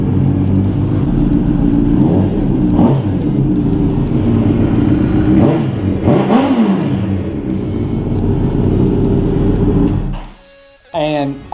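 A Honda CBR 1000RR sportbike engine running close up, its loud, steady rumble rising and falling through several revs before it cuts off abruptly near the end, leaving a brief rattle.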